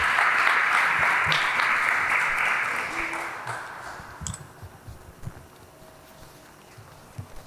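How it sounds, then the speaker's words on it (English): Applause at a university founding lab event, thanking students and their instructor: loud, dense clapping fills the opening seconds, then gradually fades into a few scattered claps and small knocks in a quiet hall. "Let's give a round of applause for our students and Stefanie."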